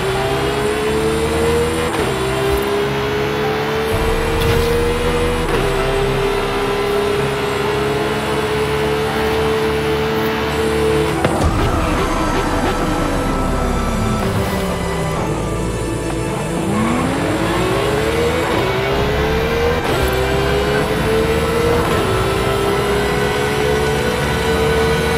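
Aston Martin engine in a Forza Horizon 5 night race, a loud continuous roar throughout, pitch climbing and dropping through repeated gear shifts with a sharp dip and re-acceleration midway, no talking.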